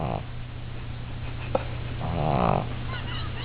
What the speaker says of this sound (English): Was somebody snoring?